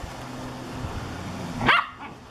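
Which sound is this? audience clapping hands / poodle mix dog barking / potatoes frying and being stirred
poodle mix dog barking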